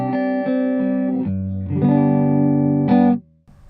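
An electric guitar with a built-in processor, set to compression only, plays a few sustained, bright notes and chords, each ringing steadily before changing, ending with a sudden cutoff.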